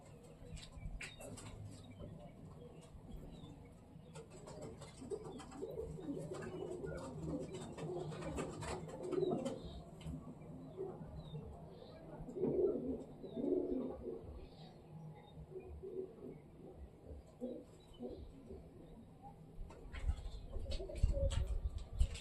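Faint, low pigeon cooing rises and falls over a quiet rustling background, with a few soft bursts of cooing throughout.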